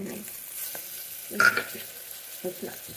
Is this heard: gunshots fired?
no